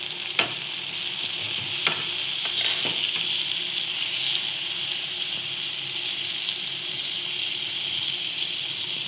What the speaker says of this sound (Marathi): आता आपण तेलात टाकतोय बटर